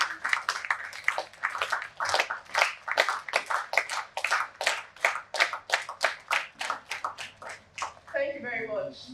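An audience at the JCI Nigeria CYEA 2021 event gives a rhythmic round of applause for the JCI National President, steady synchronized claps in a quick repeating pattern, ending with a voice starting to speak.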